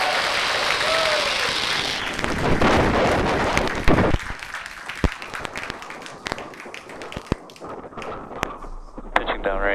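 A SpaceX Falcon 9 lifts off from Vandenberg on a Starlink mission, heard as a broad roaring rush that gives way to crackling and popping bursts, with a voice speaking over part of it.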